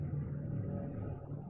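Steady low traffic rumble from cars passing by outside, a continuous distant drone without clear individual pass-bys, fairly quiet and alone.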